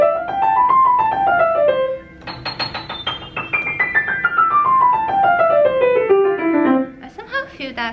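A Fazioli F212 grand piano is played in sweeping descending runs and quick flourishes, bright and resonant, close, with a brief pause midway before the cascades resume.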